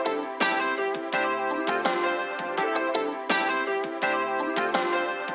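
Instrumental stretch of a song sampled by another artist, with no singing: a dense, steady groove of looping chords and regular rhythmic hits, loud and continuous throughout.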